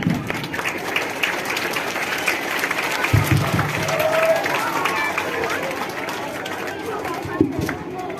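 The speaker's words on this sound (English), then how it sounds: "Please clap for them once again." Steady applause from a crowd at a school event in Bahraich, India, after a march performance fills the whole stretch, a dense even clatter of many hands with a low murmur underneath.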